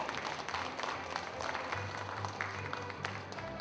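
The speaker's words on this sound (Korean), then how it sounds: "전 동국대 총장 보광 스님께 감사의 박수 크게 한번 쳐주시기 바랍니다" An audience at the founding ceremony of a Buddhist cremation-rite preservation society applauds former Dongguk University president Venerable Bogwang, a continuous crackle of many hands with a low steady hum beneath.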